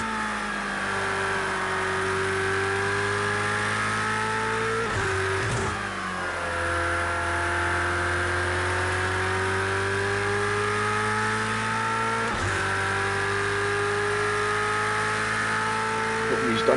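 Race car engine in a racing video game at Watkins Glen, loud sustained revving with steady pitch climbs and two sharp gear-shift dips, a voice speaking faintly over it.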